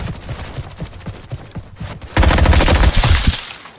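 An MP5 submachine gun fires in the Roblox shooter Frontlines: scattered single shots and short bursts early on, then a loud, dense sustained burst of rapid automatic fire.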